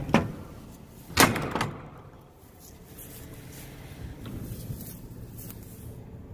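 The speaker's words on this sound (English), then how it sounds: "Open the trailer door up." A power-only trailer door is unlatched and swung open during an inspection, with a couple of sharp metallic clanks and a slam-like thud up front, then quieter rattling and shuffling.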